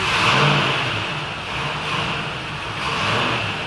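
TVR Chimaera Turbo engine holding a high, steady rev on a hub dyno with slight rises and dips, a continuous loud drone without any voices.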